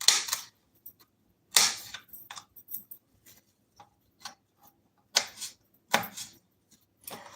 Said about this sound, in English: So I'm cutting up the other onion, other pepper.